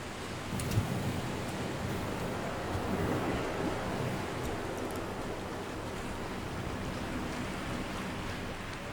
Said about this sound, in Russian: Какой сильный ветер.